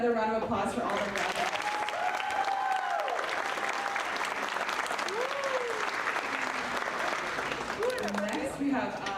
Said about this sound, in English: Can we get another round of applause for all the graduates?